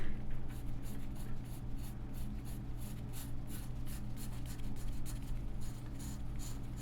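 A graphite pencil, including 2B and HB grades, drawing on paper, with a steady scratchy rasp of repeated short strokes, close and continuous, no talk.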